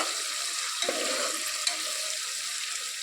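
Ginger garlic paste fries in a pan with a continuous bright sizzle and a couple of soft stirring knocks.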